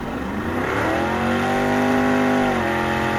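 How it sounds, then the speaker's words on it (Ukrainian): A car engine running and revving up, a close, loud, steady drone whose pitch rises and holds for about a second before dropping back, with no talking. "А ще у машини є мотор. Коли він працює, машина їде."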